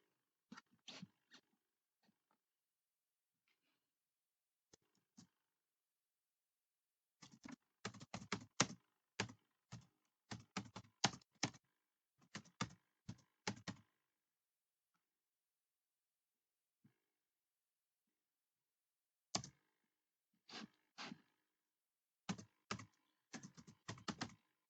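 Typing on a computer keyboard while writing Python code comes in scattered bursts of crisp, close key clicks, separated by long silent pauses.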